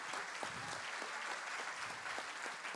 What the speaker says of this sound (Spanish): So that deserves a round of applause.